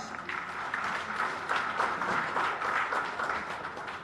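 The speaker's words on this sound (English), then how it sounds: "Give him a round of applause." A seminar audience at a Chennai university applauds for Dr. A. Raja, a dense continuous roll of clapping, fairly distant and even throughout, with a faint murmur underneath.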